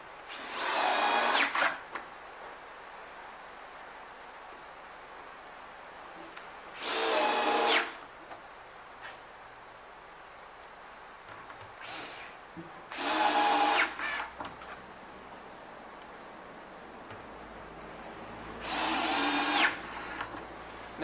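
A power drill drives screws through a cabinet back panel, four separate bursts of whirring spaced several seconds apart, with quiet gaps in between.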